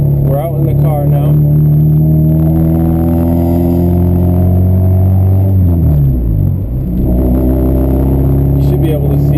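Honda Accord driving at night, a steady engine rumble and road noise with a gear change partway through, heard from inside the cabin with faint wind noise.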